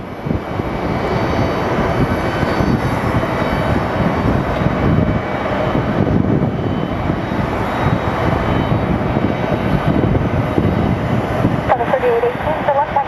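A jet airliner's engines roar at Phoenix Sky Harbor airport, a loud, steady broadband rumble from nearby that holds without a break, with faint voice chatter underneath.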